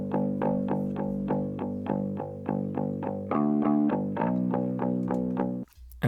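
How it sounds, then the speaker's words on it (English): Bass guitar run through a mid-range focused distortion effect, playing a steady line of evenly spaced plucked notes that shift to a higher pitch partway through, loud and close, then briefly cutting out near the end. "I want it to be really kind of mid-range focused distortion"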